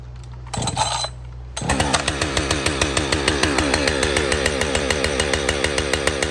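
A Husqvarna 562xp chainsaw on the choke gets a pull that fails to catch, then a second that fires it up. It settles into a loud, close, steady run with a fast rhythmic engine pulse and no talking.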